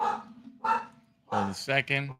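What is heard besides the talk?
dogs barking in the background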